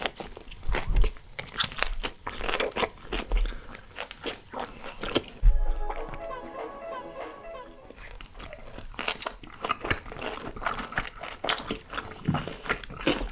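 Wet, crunchy chewing and biting of strongly fermented skate sashimi, eaten up close in repeated bursts that pause for a few seconds, with occasional voices in between.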